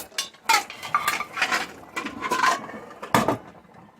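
Hard-boiled eggs tumble into a colander in a series of close, sharp clattering knocks, several bursts of rattling impacts spread across a few seconds in a quiet kitchen.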